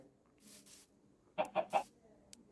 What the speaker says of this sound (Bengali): এই তো একটা মুরগি, আরও একটা দরকার আমাদের।